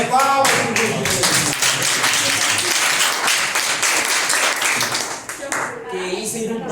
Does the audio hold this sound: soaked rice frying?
no